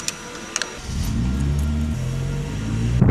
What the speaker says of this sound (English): Just going to go for a test drive one more